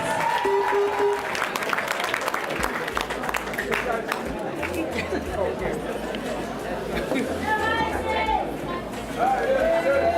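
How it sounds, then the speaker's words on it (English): Audience applause at an awards night honouring community members, a dense patter of clapping mixed with crowd chatter and a few whoops, moderately loud and steady throughout with voices talking over it. "Give her a big round of applause."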